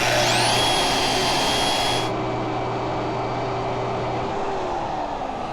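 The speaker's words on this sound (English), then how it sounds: "So we'll put the bandsaw on it, support it right there." A bandsaw cuts through material with a steady, loud motor whine. The whine drops after about two seconds, then the blade spins down quietly.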